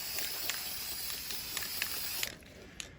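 A spray paint can hissing as it coats the inside of a basket, a steady close hiss running through the whole stretch with short bursts, then cutting off near the end.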